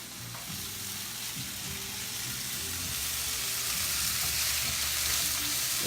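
Onions fry in a hot pan with a continuous, even sizzle and faint crackle, close and steady throughout.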